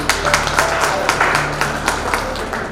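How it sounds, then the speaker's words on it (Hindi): An audience at a school Vidyarambham ceremony claps steadily after a request for loud applause, with rhythmic, fairly loud hand claps over a hum of background noise. "जोर से तालियां बजाइए"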